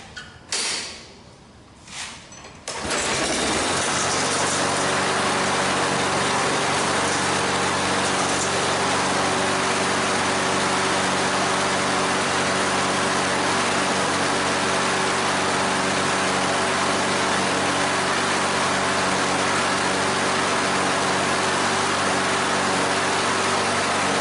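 A push lawnmower engine, its carburetor freshly rebuilt, cranks over and catches after a few seconds, then runs on steadily at a loud, even drone with a constant low hum of harmonics.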